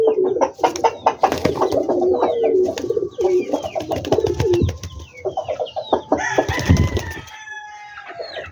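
Several domestic pigeons coo close by in a coop, with repeated soft throaty coos and some rustling that grow busier toward the end.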